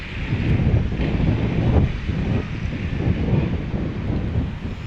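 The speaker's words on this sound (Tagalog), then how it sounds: "malakas ang hangin dito sa taas guys." Strong wind gusting across a microphone high on a mountain in Tanay, Rizal, a steady rushing roar with low buffeting swells and no other sounds.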